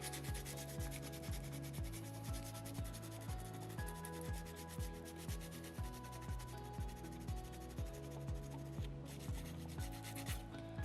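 Sandpaper scrubs back and forth on a small soapstone orca carving, a close, steady rasping rub in quick regular strokes with no voices.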